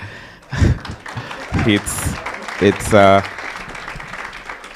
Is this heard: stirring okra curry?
no